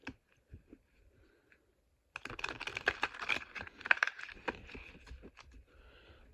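A deck of cards is shuffled. Quiet taps and handling come first, then a dense burst of rapid riffling clicks lasts several seconds before tapering off. The sound is close and fairly soft.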